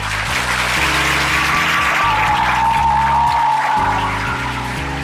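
Loud applause fills the room, heard together with heavy low rhythmic thumping music that runs beneath the clapping.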